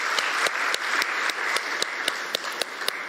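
Audience applause at a university open day and job fair opening ceremony in Guyana: steady, dense clapping from a large crowd with sharper individual claps standing out, loud and continuous throughout.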